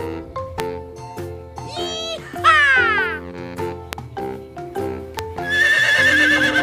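A horse neighs in several shrill, wavering whinnies, one long loud call midway and another at the end, over rhythmic clip-clop hoof beats from a toy-like animal recording.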